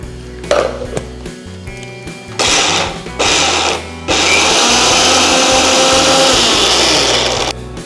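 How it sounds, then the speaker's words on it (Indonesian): A kitchen blender grinding Indonesian rendang spice paste for a Minang-style mushroom rendang, starting with a few short pulses and then running loud and continuous for several seconds before cutting off. "Jadi gue bakal masukin semua bumbu ini ke dalam blender."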